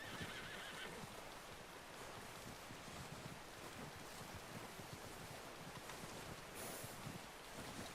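A horse whinnies in the Red Dead Redemption 2 game, under a constant wash of surf-like ambient noise with faint hoof clops, all quite quiet.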